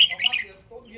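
Birds chirp and squawk in a morning garden of orchids, with mulberry and peach trees nearby; short bright calls come in a loose cluster near the start, then fade into quieter background.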